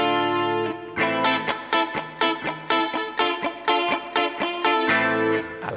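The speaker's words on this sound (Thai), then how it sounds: "ผมก็จะปิดเฟเซอร์ปิดดีเลย์มันก็เจอแค่รีเวิร์บ" An electric guitar played through an HX Stomp with reverb and chorus rings out a series of distinct picked chords and notes in a steady rhythm, each one sustaining into a shimmering wash, with no talk.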